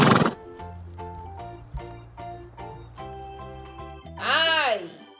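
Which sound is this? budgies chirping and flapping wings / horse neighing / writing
horse neighing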